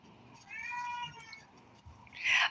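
A cat meows faintly in the background, a couple of drawn-out calls with a sharper, higher cry at the end, heard alone in a quiet room.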